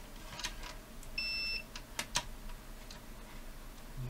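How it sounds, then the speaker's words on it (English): A multimeter set to continuity mode gives one short, steady electronic beep while probing the wiring of a JVC DR-E300L midi hi-fi system under repair, faint and close amid small clicks and ticks of the probes. "let's put this on continuity mode on my meter"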